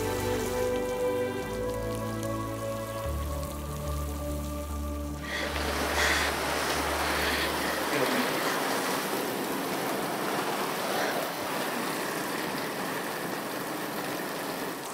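Steady rain falls outdoors at night, a dense continuous patter on surfaces that swells after the first few seconds, while soft background music fades out early on.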